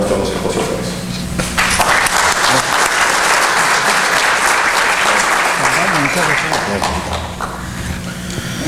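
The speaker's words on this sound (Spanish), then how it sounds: "Vamos a brindar un aplauso a nuestros expositores" Loud audience applause for the panel speakers at a round-table on mining royalties in Peru, rising after about a second into dense clapping from a crowd, then tapering near the end with a voice faintly underneath.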